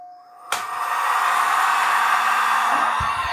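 An electric blower powered by a Deye SUN-5K-SG02LP2-US-AM2 hybrid inverter switches on with a sudden click and then roars in a steady, loud whooshing hum, with a faint tonal whine audible before it starts.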